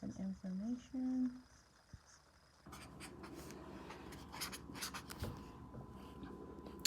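A pen writes by hand on a paper math worksheet during an algebra test review. Faint, close scratching strokes come in irregular bursts, after a brief tonal sound at the start.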